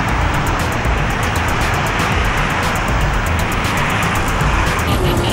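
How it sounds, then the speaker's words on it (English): Dense city road traffic in Bangkok heard from a bicycle, a loud continuous roar of engines and tyres with strong wind buffeting close to the microphone, no voices. "the excitement of getting into the traffic of Bangkok, which I seem to categorize as an organized chaos"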